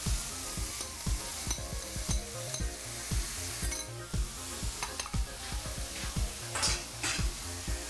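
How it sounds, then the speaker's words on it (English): Veggies, sweet corn and tuna sizzle steadily in a frying pan, with frequent clinks and scrapes of stirring against the pan over the constant crackle; nobody speaks. "So as you can see, all the veggies just frying up."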